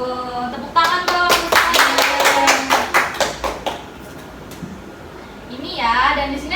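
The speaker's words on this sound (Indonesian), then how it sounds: "Tepuk tangan dong." Quick, rhythmic hand clapping during an Indonesian primary-school lesson, a run of sharp close claps lasting a few seconds while a voice sings or chants over them, then a pause before more speaking.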